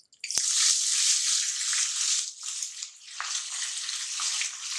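Onions and peanuts drop into hot oil in a pan for Jalgaon-style baigan bharta, giving a sudden loud sizzle that holds as a steady, close, crackling hiss with small shifts as they are stirred.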